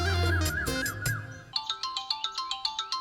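A mobile phone ringtone for an incoming call: music gives way to a bright chime that repeats about ten times at a steady, quick pace, loud and clear.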